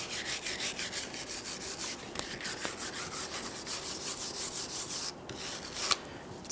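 Steady rhythmic rubbing and scraping on the base of a metal drive shaft yoke on a 2013-2020 Ford Fusion 2.0L, close and continuous with a brief pause near the end.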